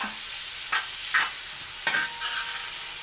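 Onions sautéing in oil for a chicken curry, a steady close sizzle broken by a few scraping stirs of a spoon against the pan.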